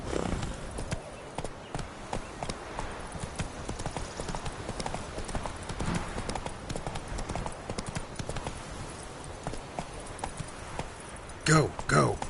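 Roach, Geralt's horse in The Witcher 3, gallops with steady rapid hoofbeats through the whole stretch, a short whinny near the end, with voices speaking over the hooves.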